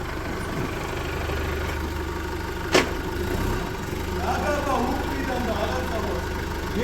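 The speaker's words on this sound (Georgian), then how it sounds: "არა ბიჭო მანქანას ძრავს დაბმა უნდა მაგას უკნიდა" A car engine runs at a steady idle, giving a continuous low hum with a single sharp click partway through and faint voices in the background.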